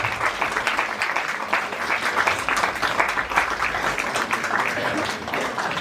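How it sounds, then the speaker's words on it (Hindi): Sustained applause from an audience at a nursing school graduation ceremony, dense continuous clapping that holds steady and fairly loud throughout without a break. "Please give a big round of applause for them."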